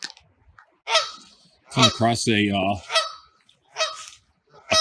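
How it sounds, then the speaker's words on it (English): An unhappy pair of geese honk on a nature trail, several loud close harsh honks in bursts with pauses between, while someone talks briefly. "pair of geese here that is not happy"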